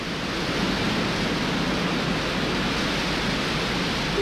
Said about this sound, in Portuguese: Recordo a grandiosidade e a força das quedas de água Duque de Bragança